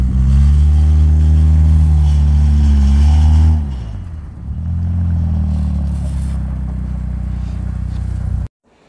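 Car engine droning loudly while climbing a hill in Canada, a steady low hum that rises slightly, dips as the throttle eases, then holds before cutting off abruptly.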